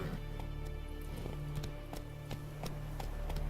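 Roach, the horse in The Witcher 3, gallops with quick rhythmic hoofbeats over a steady low rumble, close and continuous throughout.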